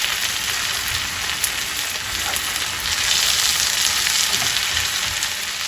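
Costco lamb loin frying in a pan gives a loud, dense, continuous sizzle and crackle like heavy rain, swelling slightly midway, with no talking.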